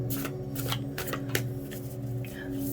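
Quick riffling and snapping of a deck of tarot cards being shuffled up close, several rapid bursts in a row.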